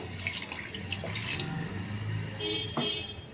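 Water poured into a pressure cooker holding chopped banana flower, a soft continuous trickle and splash, fairly faint and close, with a small clink near the end.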